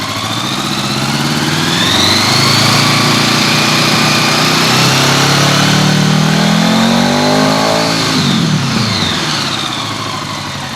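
A 1983 Honda Gold Wing motorcycle engine being revved while its charging system is checked, running loud and close, with one rev that rises, holds and falls back over about ten seconds, no voices present.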